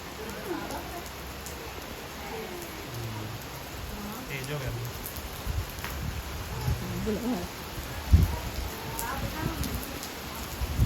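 Steady rain falls across a rural Punjab setting, a dense broadband patter running throughout with occasional louder drop impacts and faint background voices underneath.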